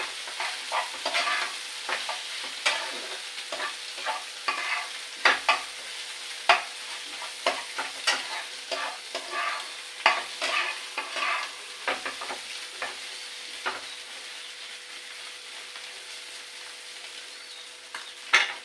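Food frying in a pan is stirred with a spoon, producing repeated sharp scraping clicks at an irregular rhythm over a soft continuous sizzle, close and clear, with no speech.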